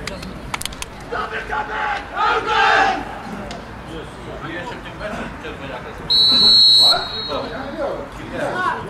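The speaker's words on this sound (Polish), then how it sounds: "Gwizdek sędziego." A referee's long, shrill whistle blast starts a football match, cutting through a noisy crowd, with shouting and chatter continuing around it.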